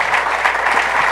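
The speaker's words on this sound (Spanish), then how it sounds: "muchas gracias a Genaro, de veras un aplauso." Dense audience applause after a talk fills the short stretch, steady and even with no voices over it.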